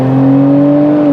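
A modified BMW M340 (G20) with a turbo swap and xDrive pulls hard in fourth gear, its engine droning loud and steady with a rising whine that cuts off sharply at the end.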